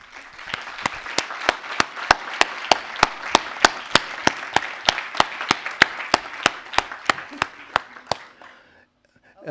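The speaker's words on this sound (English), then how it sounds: "I just want to have you help me give a round of applause to all of them" A conference audience gives a long round of applause for a panel discussing Indigenous participation, steady dense clapping with sharp individual claps standing out, ending abruptly.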